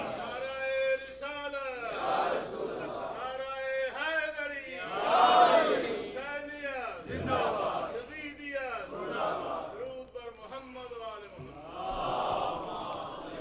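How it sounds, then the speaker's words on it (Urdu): A congregation at a religious sermon loudly chants salawat in unison, with rhythmic, swelling collective voices and shouts filling the room, rising and falling in repeated phrases. "بلند صلوات پڑھیے محمد و آل محمد پر"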